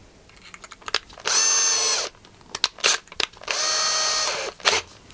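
A power drill bores into scrap wood in two sustained whining bursts, each lasting under a second, separated by clicks and handling knocks at close range.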